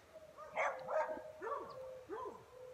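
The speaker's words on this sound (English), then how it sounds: "Every time the dogs are just like, well, now's the time to bark our heads off." Dogs bark four or five times from a short distance, hoarse, spaced barks in an uneven rhythm over a faint steady tone in the room.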